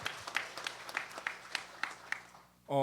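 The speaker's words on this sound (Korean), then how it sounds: "영광의 박수로 우리 같이 하나님을 높여드렸으면 좋겠습니다." A church congregation claps in worship, a sparse, fairly faint series of individual claps in a loose rhythm, closing on a brief tonal sound at the end.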